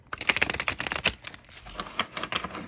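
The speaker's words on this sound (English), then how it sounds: "I'm going to give this a quick shuffle." A tarot card deck is shuffled close up, a rapid run of crisp riffling clicks and flutters, pausing briefly before a few more soft shuffles.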